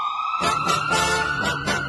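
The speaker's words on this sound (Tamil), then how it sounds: "கொஞ்சம் ஆம்புலன்ஸ் வழி விடுங்கப்பா" A loud, close ambulance siren wails continuously with a steady high tone, traffic noise rumbling underneath and no voices.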